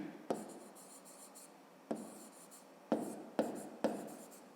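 Pen writing by hand in a notebook during a fifth-grade maths exercise, five quick bursts of scratching strokes separated by short pauses, close and fairly quiet, with no talking.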